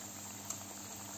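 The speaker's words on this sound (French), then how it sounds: "on va commencer à frire" Homemade chicken nuggets fry in hot oil, giving a brief, soft, steady bubbling hiss close by with no other sounds.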